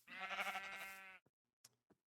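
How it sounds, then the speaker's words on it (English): A black sheep in a Minecraft-style farming game gives one long, wavering bleat, close and clear, followed by a few faint short clicks. "here's some black sheep."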